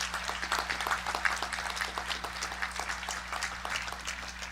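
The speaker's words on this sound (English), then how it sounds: "All of you deserve another big round of applause." A graduation crowd at a 2020 high school senior ceremony gives a round of applause, dense and steady clapping throughout over a low electrical hum.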